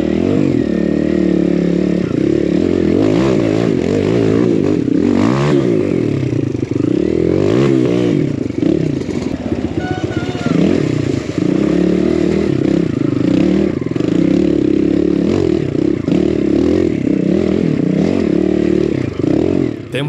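A built Kawasaki KLX140 dirt bike rides an extreme enduro woods trail, its small engine loud and close, revving up and down continuously with clatter and scraping throughout.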